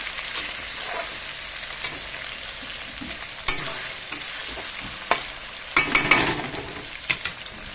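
Onions frying in a pan for a home-cooked meat dish, a steady close sizzle with scattered sharp crackles and spits and occasional stirring scrapes, no talking.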